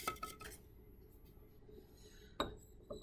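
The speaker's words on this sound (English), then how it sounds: "hold it very firmly, and then invert the flask 2 times to thoroughly mix the solution" A stoppered glass lab flask of sugar solution is tipped over to mix, giving a few soft glassy clinks and knocks near the start and again around the middle, quiet against a low steady background hum.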